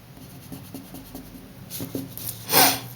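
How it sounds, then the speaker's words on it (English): A pencil drawing being erased: soft, scratchy rubbing strokes in a quiet room, a few light passes early on, then a louder, sustained burst of eraser scrubbing toward the end. "You can see what I mean if I go ahead and erase this out here"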